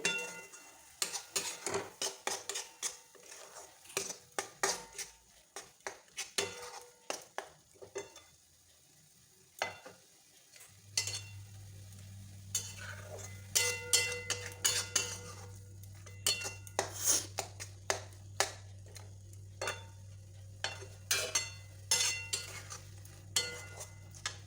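A grated coconut and sugar mixture is stirred in a pan, with a steady run of scraping, clinking spoon-on-metal strokes at close range and a low hum joining partway through.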